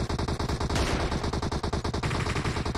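Rapid automatic gunfire from PUBG Mobile rattles in a continuous stream of closely spaced shots, with a denser burst near the middle, loud and sustained throughout.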